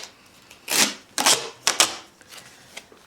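Patterned duct tape is pulled and handled up close for a homemade women's wallet, giving several sharp crackling rips and rustles in quick bursts, then a few quieter taps and crinkles.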